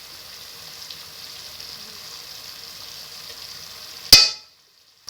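Spices for aloo matar curry fry in oil with a soft, even sizzling hiss, fairly quiet and close, ending in a sharp clack before sudden silence.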